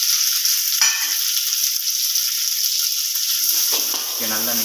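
Onions and green chillies sizzle steadily in a hot pan, with a few short clinks or scrapes of stirring breaking in now and then, close and fairly loud with no talk.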